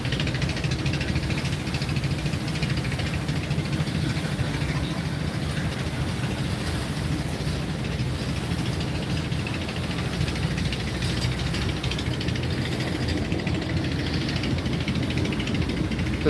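Steady low diesel rumble of a passenger river launch's engine running mid-river, heard from the upper front deck near the master bridge, continuous and droning with no talk over it.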